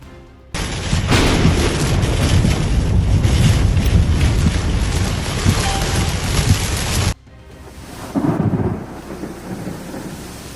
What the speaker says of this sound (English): dramatic footage captured the storm sweeping over the city. Dark skies and roaring winds turned the landscape into something straight out of a disaster movie.